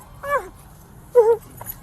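An anxious service dog whimpers in two short, high, wavering whines separated by a pause, fairly close, over a low steady background rumble.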